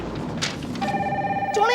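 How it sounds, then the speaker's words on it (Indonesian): An old telephone in a Goosebumps basement story starts ringing partway through, a bright, steady electronic trill rising over a murky background rumble. "tiba-tiba telepon berdering"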